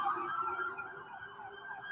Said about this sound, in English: they were all going down with lights and sirens in protest of these